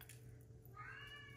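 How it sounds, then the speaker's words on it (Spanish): A house cat meowing outside a kitchen door, wanting to be let in; one drawn-out meow rises near the end over a quiet kitchen background. "ya tenemos a mi gato por ahí como siempre. Que lo dejo fuera de la cocina. Y quiere entrar."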